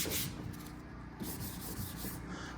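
Primer being sanded on the body of a Trans Am GTA's Hawks spoiler, a steady close abrasive rubbing and scraping that carries on through the whole stretch with small rhythmic surges and no voices.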